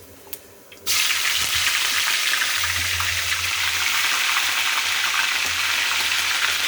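Onions hit hot oil for a kuzhambu and burst into a loud, continuous frying hiss and crackle that starts abruptly and holds steady close by, with no voices.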